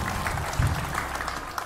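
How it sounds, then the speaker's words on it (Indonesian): Studio audience at an Indonesian television talk show applauding, a short steady patter of many hands with a brief low thump partway through. "Silakan tepuk tangan dulu."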